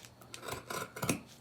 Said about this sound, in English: I come down and I cut the little triangle hanging here